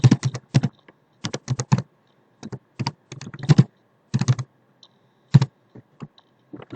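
Fingers type text on a computer keyboard in quick bursts of clicking keystrokes separated by short pauses, close and clear with no talking.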